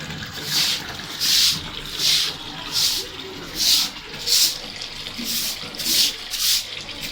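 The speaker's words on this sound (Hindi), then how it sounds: "पानी और डालो, सारा कचरा निकाल दो।" Water poured and splashed while rinsing soap and dirt off during washing, coming in about ten regular rhythmic gushes with short pauses, close and fairly loud.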